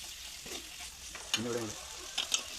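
Cooked corn being stirred and mixed in a frying pan, a soft sizzle with scraping spoon strokes in a few brief bursts, close and fairly quiet.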